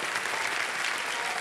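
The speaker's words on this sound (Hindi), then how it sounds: "एक बार तालियां बज जाए इनके लिए" A television quiz show studio audience gives a short burst of thick, continuous applause, many hands clapping together at a steady, loud level throughout.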